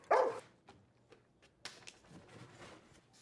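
A dog in The Last of Us TV episode gives a sharp close bark, followed by quieter scuffs and faint sounds.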